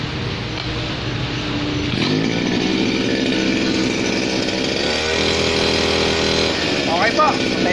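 A grass cutter's engine is started and test run after assembly, giving a loud, steady, high-pitched two-stroke buzz that kicks in about two seconds in and holds throughout, with someone talking over it.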